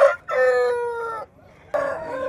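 A rooster at a chicken market crows loudly and up close in two drawn-out calls separated by a brief pause, with faint background murmur.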